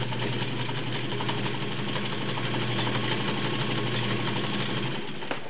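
A vintage White model 626 sewing machine, serviced, runs steadily and smoothly, a continuous close motor hum with fine rhythmic needle chatter throughout and a small click near the end.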